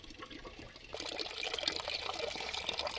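Water runs into a container, a faint trickle that swells into a fuller, steady pouring rush after about a second and continues to the end.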